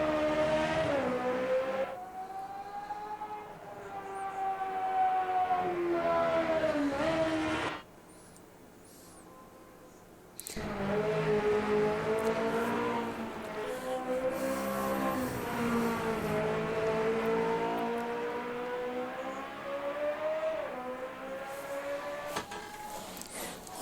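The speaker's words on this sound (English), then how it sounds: "There's an actual car down there." Formula Retro race car engine in the game Automobilista 2, a loud continuous open-wheel engine drone with rising and falling revs through gear changes, dropping out briefly mid-run before returning at full volume.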